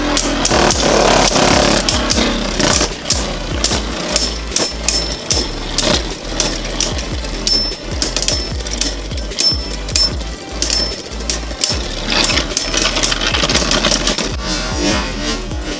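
Beyblade Burst tops Tempest Dragon and Rage Longinus spinning and clashing in a stadium battle, a loud continuous whirring grind broken by frequent sharp metallic clacks of collisions throughout, with no talking.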